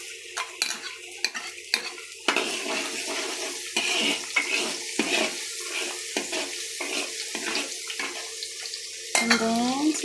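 Garlic sautéing in a pan at a home birthday gathering, a sizzle broken by repeated scraping and clinking strokes of a utensil against the pan, close and fairly loud, with a brief metallic ring near the end.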